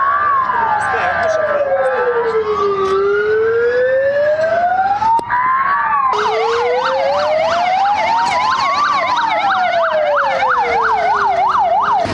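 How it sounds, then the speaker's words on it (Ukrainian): Fire brigade emergency vehicles arrive at an oil depot fire drill, several sirens sweeping slowly up and down, then faster warbling joins in, loud and layered, over a background rumble. "за лічені хвилини ми вже чуємо звук сирен"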